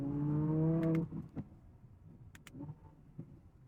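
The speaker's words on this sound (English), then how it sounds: "After listening to George's 370Z, it feels like this car is too quiet" A 2017-or-later Audi R8 engine hums with a strong steady tone for about a second, then drops to a low idle with faint clicks and light mechanical noises, heard close inside the car.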